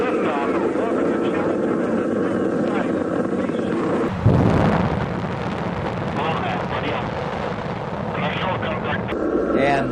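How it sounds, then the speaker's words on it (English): Space shuttle liftoff with a broad, loud roaring rumble that swells and churns throughout, a sharp crackling surge partway through, and a voice talking over the launch noise. "Liftoff of America's space shuttle on it."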